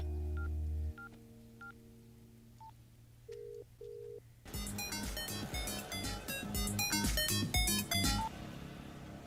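Telephone number dialed on a keypad in a Hindi-dubbed film scene, a short series of clear electronic dial tones spaced out over a low hum, followed by loud dramatic music swelling in.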